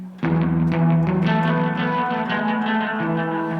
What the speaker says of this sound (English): Let's turn that reverb up a little bit.